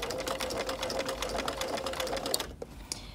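A sewing machine stitches fabric around a curve with pins left in, its steady rapid whir running loud and close for over two seconds before stopping abruptly, leaving a few faint clicks.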